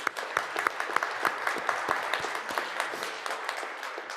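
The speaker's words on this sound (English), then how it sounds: "because I know that she's working actually, can we give her a round of applause, Tiane?" Applause from an audience at a Winnipeg Pride event, a steady patter of many hands clapping at moderate distance, fairly quiet and even for several seconds with no talk over it.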